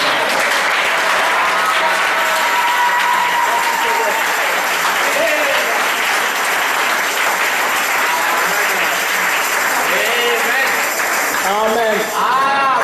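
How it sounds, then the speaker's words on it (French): A church congregation bursts into loud, sustained applause that fills the room continuously, with voices calling out and cheering through the clapping. "Un applaudissement pour la parole."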